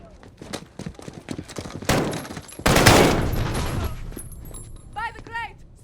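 Rapid bursts of gunfire from a Modern Warfare shooter mission fill the scene: loud, dense volleys and single cracks with a heavy sustained burst midway, ending in short clipped chirps.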